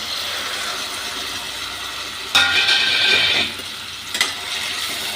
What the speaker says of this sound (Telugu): వేసుకొని మనం దీన్ని బాగా ఫ్రై అవ్వనివ్వాలి